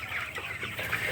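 Broiler chickens, 22 days old, cluck in a poultry shed, a continuous low, busy chorus of many birds heard at moderate distance with faint background hum.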